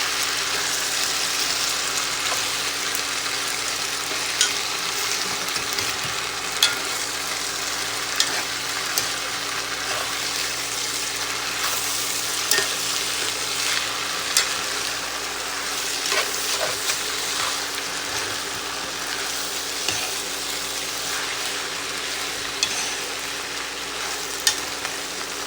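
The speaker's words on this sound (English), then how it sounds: "add in the vegetables and the shrimp. Give everything a good stir together" Shrimp and vegetables stir-fry with lo mein sauce in a hot pan, giving a dense, continuous sizzle broken by occasional sharp clinks and scrapes of stirring, close and fairly loud with no talking.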